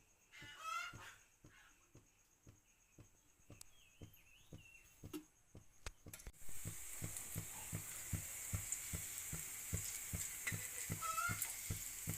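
Colocasia leaf rolls (alu vadi) fry in oil on a griddle over a gas flame. After a quiet start with fowl calls and scattered clicks, a bright, steady sizzle bursts in partway through and continues.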